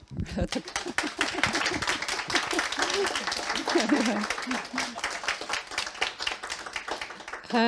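An audience claps after a lecture on majoritarian religion and new diversity. Clapping is scattered and rhythmic, mixed with voices and brief talk, and rises and falls across the stretch.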